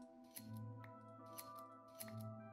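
Shears snipping wool off sheep in a modded Minecraft world: three crisp metallic clips spaced about a second apart, with sheep bleats and soft background music underneath.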